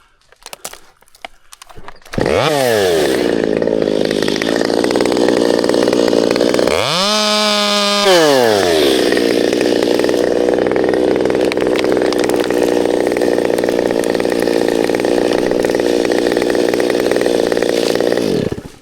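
Chainsaw cutting deep into the trunk of a tall, dry dead tree during a removal, loud and close, revving up after a short quiet start, dipping once mid-cut, then holding a steady roar to the end.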